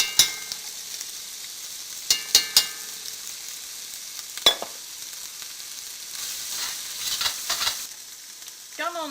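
Onion, ginger and garlic fry gently in oil, a soft, low sizzle broken by a few sharp clicks and brief stirring scrapes.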